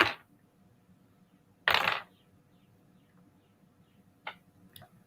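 Dice roll and clatter on a table during a tabletop game, with two short bursts of rattling close up and a few lighter taps trailing afterward in a quiet room.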